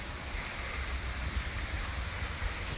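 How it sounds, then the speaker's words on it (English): Steady rain falls outside a garage, a continuous broadband hiss with a low rumble, even and unbroken throughout, with no talking. "it's raining outside and it's kind of cold"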